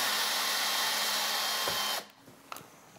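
A power drill backing out screws from a refrigerator side profile trim whirs steadily and loud for two seconds, then cuts off, leaving faint clicks and handling noises.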